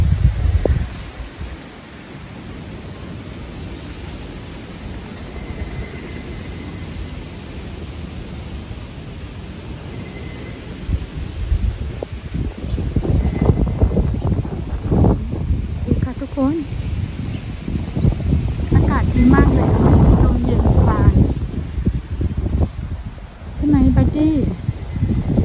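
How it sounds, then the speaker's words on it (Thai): Strong, gusty wind blasts across the microphone outdoors on a hot day in Norway, roaring and buffeting in uneven surges that swell louder toward the end. "ลมแรงค่ะทุกคน"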